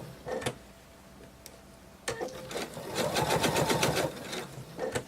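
A sewing machine stitches around the fin of a fabric whale shark plush, starting with a few short clicks before settling into a steady, fast mechanical whirr of needle strokes, close up.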